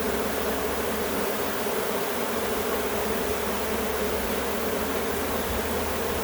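A honeybee swarm hanging at head height buzzes close and loud, a dense, unbroken hum of many wings that holds steady throughout.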